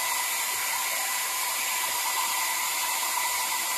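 Nova Silky Shine foldable hair dryer running on its cold setting, a steady loud airy whoosh with a motor whine, close and continuous with no voices.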